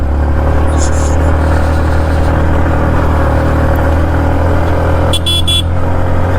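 A vehicle horn gives a couple of short honks over a loud, steady engine and road roar as the vehicle climbs a steep hill road near Marayoor, with a second pair of honks later on.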